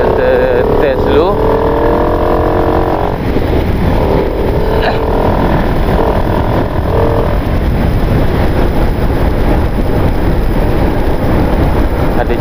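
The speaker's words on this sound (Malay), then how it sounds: "Bunyi motor masuk tak, bunyi angin banyak tak." A motorcycle engine is recorded from a camera mounted on a rider's helmet, with constant loud wind rush buffeting the microphone. An engine drone sits under the roar throughout.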